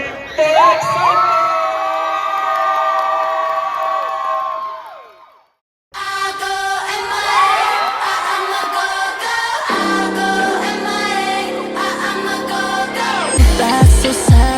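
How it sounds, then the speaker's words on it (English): A concert crowd yells, screams and cheers in a sustained roar, breaking off briefly midway before surging back loud and close, with shrill whoops over the top. "Let me hear you yell, let me hear you scream for excitement!"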